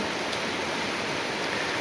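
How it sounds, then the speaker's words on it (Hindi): Heavy monsoon-style rain pours steadily outdoors, a dense, even hiss with no pauses and no voices. "अभी का आप लोग को दिखाती हूँ कितना बारिश यहाँ हो रहा है। बहुत बारिश है।"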